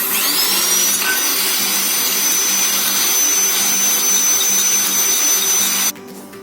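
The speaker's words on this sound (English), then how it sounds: "Now you will need a hand blender unless you want to whisk it 400 times." A hand blender whirs loudly and steadily at a constant high pitch for several seconds, whipping dalgona coffee, then cuts out abruptly just before the end.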